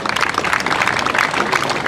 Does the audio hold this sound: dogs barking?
no